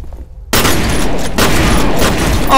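Heavy gunfire in the shooter game F.E.A.R. (First Encounter Assault Recon): silence breaks into a loud, continuous barrage of booming shots that carries on without pause to the end.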